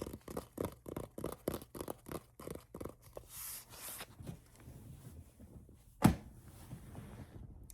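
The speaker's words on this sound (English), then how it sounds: "that's me dropping things on the ground" A run of quick rubbing scratches while rummaging through a craft bin, then quieter rustling and a single sharp thud as something hits the floor nearby.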